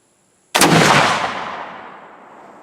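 A single loud Rightnour flintlock rifle shot, sharp onset with a broad blast that decays slowly over about two seconds, near and alone with no talk.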